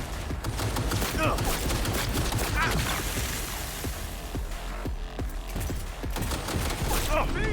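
Rapid bursts of gunfire from the video game Cyberpunk 2077, a dense fusillade of loud, continuous shots with clattering impacts under raised excited voices.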